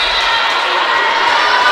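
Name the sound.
volleyball crowd cheering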